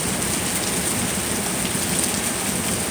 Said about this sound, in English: Nice little storm.